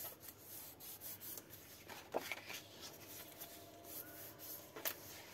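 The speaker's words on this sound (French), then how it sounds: "je vais marquer mes plis" Cardstock creased by hand for a pop-up card, soft faint rubbing and rasping strokes with a few brief scrapes, close up and quiet, with a couple of spoken words.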